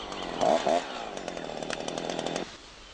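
A Husqvarna chainsaw engine revs loudly up close and then holds a steady buzzing drone before abruptly cutting out.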